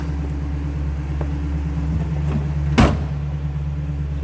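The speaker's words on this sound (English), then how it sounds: "So nicely the door closes" A 1965 Ford Mustang convertible's door shuts with a single sharp thud, heard close over the steady low idle of its running 289 V8.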